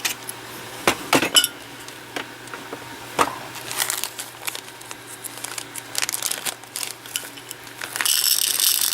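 A scooper digs through 6/0 glass seed beads, giving irregular clicks, rattles and sharp ticks of small glass pieces that build into a denser, louder shuffling pour near the end, close-up and without speech.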